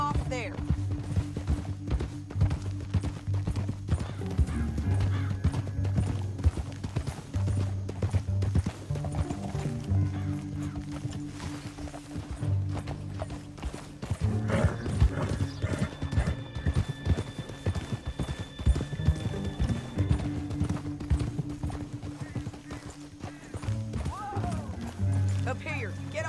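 Rhythmic hoofbeats of galloping horses in the video game Red Dead Redemption 2 pound on continuously, with a whinny and voices talking over a low musical drone.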